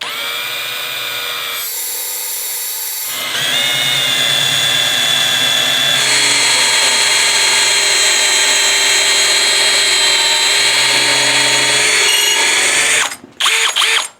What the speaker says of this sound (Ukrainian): Починаємо сверлити.